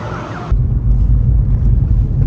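A BMW E36 car driving, with a steady low engine and road rumble close by that begins abruptly after a short moment of other sound.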